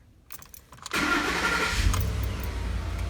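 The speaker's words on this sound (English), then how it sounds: "I'm gonna go ahead and start the truck." A 2011-or-later Ford F-150 pickup cranks briefly after a few faint clicks, then fires up and settles into a steady, fairly loud idle rumble heard close by.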